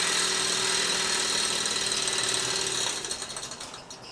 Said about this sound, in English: I'm now going to shut the engine down.